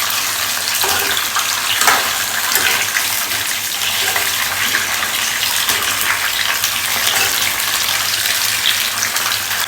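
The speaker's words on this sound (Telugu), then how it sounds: "ఆయిల్లో డీప్ ఫ్రై చేసుకోవాలి" Capsicum deep-frying in hot oil in a kadai, a loud, dense, continuous bubbling hiss with crackling spits throughout, close and unbroken, no speech.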